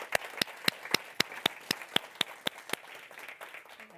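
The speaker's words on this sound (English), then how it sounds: "Let's have a round of applause." Sparse applause from a small conference audience, about a dozen distinct, fairly close hand claps in an uneven rhythm that thins out and fades after about three seconds.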